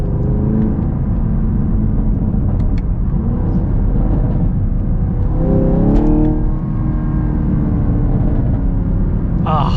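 The V8 of a Chevy Camaro SS 1LE hums and rumbles steadily, then swells briefly in a rev around the middle, with someone talking over the engine sound.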